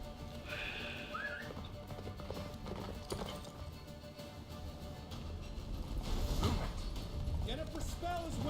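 Horse hooves gallop in The Witcher 3 video game, a fast clip-clop under game music and wind, with a whinny and voices speaking over it.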